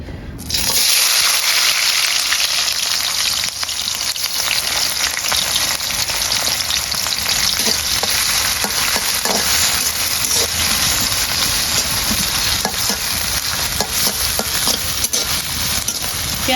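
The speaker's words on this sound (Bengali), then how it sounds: "গরম হয়ে গেছে এখন দিয়ে দিচ্ছি পেঁয়াজ কুচি" Chopped onions sizzle in hot oil in a pan for a Bengali fish curry, a loud steady crackling hiss that carries on unbroken throughout with no voices over it.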